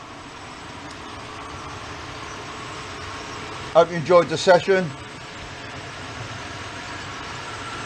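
A model container train on a large UK loft layout rolls through, giving a brief burst of rhythmic clicking and rumbling over a steady background hum, while someone speaks briefly.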